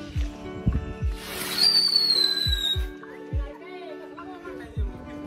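Firecrackers going off during Diwali: a series of dull, fairly distant booming bursts at irregular intervals, with a shrill whistling rocket rising and fading in the middle.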